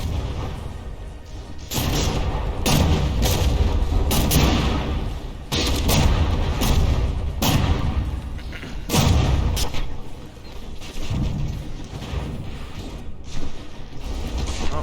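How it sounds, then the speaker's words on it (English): Battleship artillery in a From the Depths tournament brawl, Sawtooth versus Megadozer, fires in a string of heavy booms, roughly a half dozen deep thumping blasts spaced a second or two apart over a mechanical rumble. "Oh, those shells falling a bit short."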